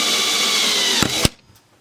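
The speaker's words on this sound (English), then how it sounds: "Did I just break my drill bit?" A power drill runs steadily and loudly into a metal bracket, then stops abruptly with two sharp knocks, leaving only faint ticks after.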